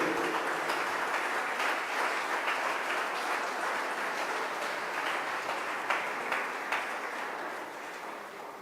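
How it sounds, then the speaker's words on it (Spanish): A church congregation claps in steady, dense applause for several seconds, fairly loud and fading slightly toward the end. "Dele fuerte ese aplauso al que vive."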